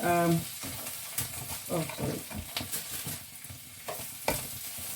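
Bitter melon frying in a pan while being stirred and turned: a steady oily sizzle, close, with soft scraping and clatter from turning, and a brief voice at the very start.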